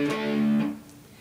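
A short burst of a riff on distorted electric guitar, one ringing chord that fades after about half a second, played alone.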